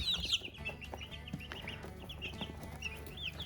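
Chickens cluck softly and steadily close by in a quiet farmyard, some higher chirps mixed into a continuous low murmur of hens.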